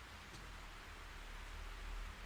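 Steady rain hisses throughout a scene in the horror video game Fatal Frame 3, a broad, even wash of falling water at a moderate, unchanging level with no other clear sounds.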